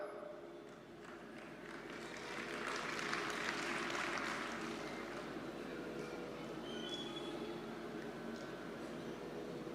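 Audience clapping at a Hindu religious discourse: a steady crowd of many hands swells over a few seconds and then continues evenly at a moderate distance, over a constant background hum.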